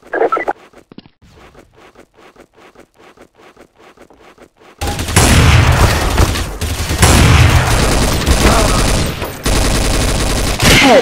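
Rapid gunfire bursts in Counter-Strike: Source, quiet clicks at first, then loud sustained automatic shooting with dense overlapping shots from about the halfway point onward.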